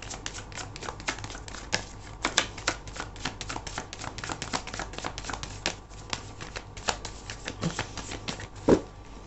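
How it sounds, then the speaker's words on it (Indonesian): Tarot cards are drawn and handled in a rapid series of crisp clicks, snaps and shuffling slides, close and fairly quiet, with irregular rhythm throughout. "Aku akan ambil 5 kartu lagi ya."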